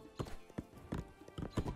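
Horse hooves clopping in the strategy game 0 A.D., a run of distinct hoof strikes at an uneven pace, fairly close and clear with no talking.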